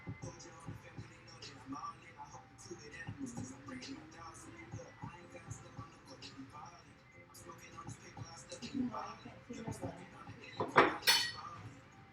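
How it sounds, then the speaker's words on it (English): Cutlery and dishes clink and clatter in a kitchen during breakfast cooking, with scattered light taps and clinks, a few sharper and louder near the end, mixed with quiet talk. "So, we're cooking breakfast."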